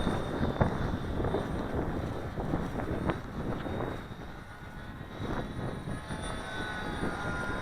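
An Alien Aircraft Blinker RC plane flies in strong wind, its electric motor droning steadily at a moderate distance while gusts buffet the microphone with a constant roar.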